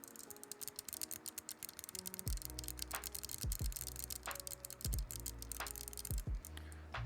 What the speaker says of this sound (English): Clickiness of keyboards.